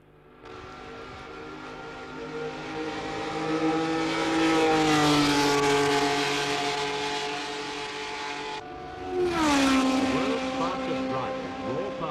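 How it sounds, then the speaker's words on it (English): Formula One race cars on a practice lap past the pits at the Monza Grand Prix in Italy roar by with engine pitch rising and falling through two loud, close pass-bys. "The pits in a practice lap before the start of the 40th Grand Prix."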